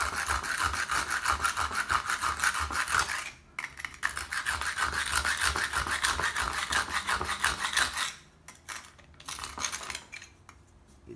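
A copper tool is rubbed back and forth across a tough sandstone block with no grit, making a steady, close, gritty rasping in rhythmic strokes that pause briefly twice before resuming.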